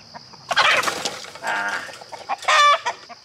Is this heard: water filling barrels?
no